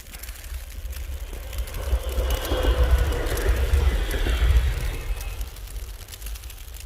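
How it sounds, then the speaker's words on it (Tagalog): Old train rolling past outdoors in heavy snow, a low rumbling drone with clattering wheels that swells to a peak midway and then eases off, fairly close. "Lumang train."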